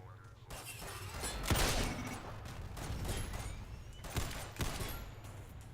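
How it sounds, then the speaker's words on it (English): Shotgun blasts from a special move in the shooter SYNTHETIK crack out in a quick irregular volley, several sharp bursts over a busy, rumbling game-action background, fairly faint overall. "So that was my special shotgun move that I keep using"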